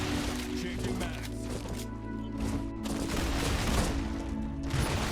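Busy gunfire in the StarRupture video game, rapid shots and crashes layered with game music and effects, with voices talking over the action.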